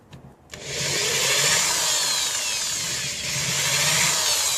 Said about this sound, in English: I'm just going up to a slightly larger drill piece.